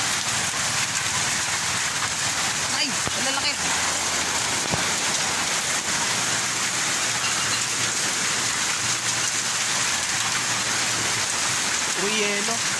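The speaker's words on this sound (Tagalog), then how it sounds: "Uy, yelo." Hailstones pelt the ground and nearby surfaces in a dense, steady roar of tiny impacts that lasts the whole stretch, with voices briefly audible beneath it.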